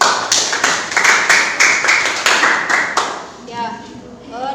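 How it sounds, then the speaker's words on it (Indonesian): Students in a vocational high school classroom clap in uneven bursts for about three seconds after a group presentation, then the applause fades and a voice begins talking. "Silakan anak-anak boleh berikan tepuk tangan dulu."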